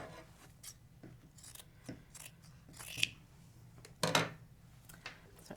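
Scissors trim excess fabric from a box cushion cover in an upholstery workroom, giving a series of quiet, close snips and rustles at an irregular pace.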